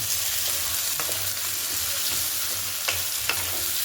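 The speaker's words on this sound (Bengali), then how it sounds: "আলুটা ভাজা হয়ে এলে তারপরে এক চামচ মতন লবণ দিয়ে দেবো" Potatoes fry in hot oil with a steady, dense sizzle throughout, broken by a few faint stirring clicks, close and constant with no talking.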